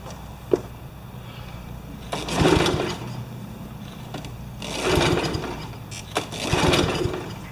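A Honda HRB215 lawn mower, being reconditioned and fuelled with two-stroke gas, sputters through repeated start attempts, with short rising engine bursts that catch and fade in a loud, close, uneven rhythm.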